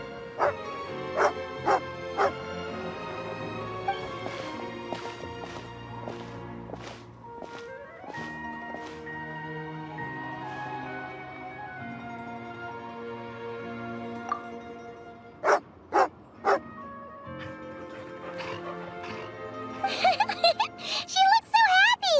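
A dog in the video game Genshin Impact barks in short bursts, several sharp yips early on and another cluster later, set against soft game music and ambient tones.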